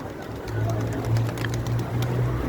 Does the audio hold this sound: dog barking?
no